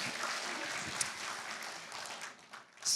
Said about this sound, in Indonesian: Tepuk tangan buat Tuhan Yesus dong